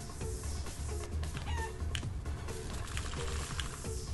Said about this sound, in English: I think we gotta use the chicken here.